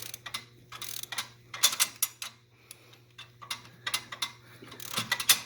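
A hand ratchet with a slipping socket turns a bolt while installing long-tube headers and exhaust on a 2016-2020 Camaro SS, giving bursts of rapid clicking pawl ticks in uneven spurts over a low steady hum, close by.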